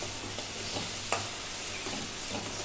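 Garlic, green chili, curry leaves and ginger sauté in a pan for onion samosa filling, giving a steady close sizzle with occasional stirring clicks and a brief scrape, no voices.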